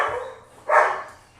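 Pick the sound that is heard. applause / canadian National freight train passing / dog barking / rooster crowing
dog barking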